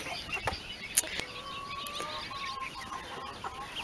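Backyard chickens in a pen during a mid-May garden walk cluck in faint, scattered bursts over a soft outdoor hush, with an occasional sharper bird call and no talking.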